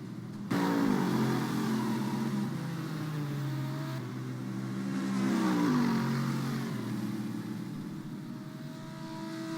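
Steady race car engine drone from a racing video game with GT1 class Toyota and Mercedes cars, a continuous loud whine rising and falling in pitch across the whole stretch.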